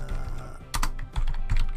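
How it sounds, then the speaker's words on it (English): Quick bursts of clacking keys on a computer keyboard while building roads in a transport simulation game, close and steady with brief pauses, no talking. "Apologies for my typing again."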